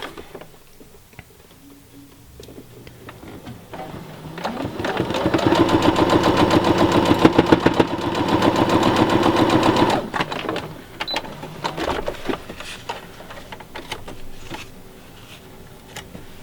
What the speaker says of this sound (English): So now I'm just going to stitch these together.